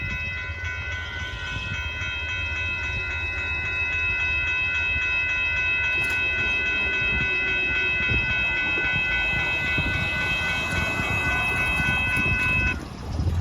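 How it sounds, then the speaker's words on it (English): A southbound Amtrak Texas Eagle 21 passenger train rolls past at Dittmar Road in Austin, Texas, a steady near rumble with a sustained multi-tone horn chord held throughout, no talk. "That's a nice southbound Amtrak Texas Eagle 21 train"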